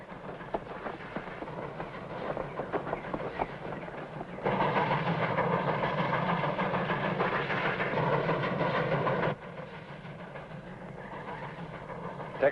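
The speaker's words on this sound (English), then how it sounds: "Smokestack's rolling that train." A steam train rumbles steadily along the rails with a constant clatter and hiss, growing louder in the middle before easing back.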